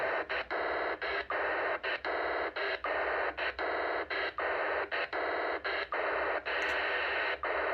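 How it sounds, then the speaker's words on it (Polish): A harsh, buzzy data tone from TIDRadio H3 handheld radios cloning settings, broken into rapid regular bursts with brief gaps, continuing steadily throughout. "Jak słyszycie, urządzenia wymieniają się informacjami."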